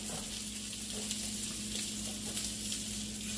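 Salmon fillet sizzling in a hot pan with an onion slice underneath, a steady close hiss of frying with small crackles and faint stirring or flipping scrapes, no voices.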